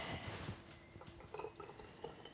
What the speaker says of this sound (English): Top it up with some water here.